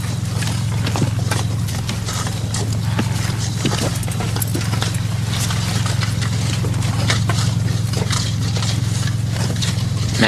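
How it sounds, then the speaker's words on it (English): Steady hoofbeats clop at an unhurried walking pace over a low engine-like hum, fairly close and continuous. "Man leading a horse."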